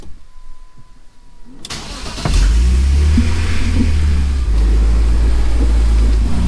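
Car with a low-ratio welded differential, raised with wheels off the ground, cranks and starts in gear, then settles into a loud, steady running rumble close by after a quiet lead-in.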